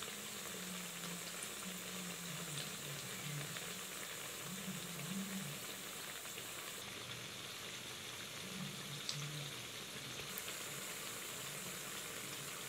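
Corn vadai frying on low flame in a pan of oil, a soft continuous bubbling sizzle that stays even and fairly quiet throughout with no speech.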